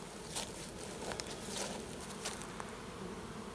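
A swarm of honeybees buzzing around a box they were just placed in, a continuous faint droning hum with occasional nearer passes of individual bees, heard outdoors without any talk.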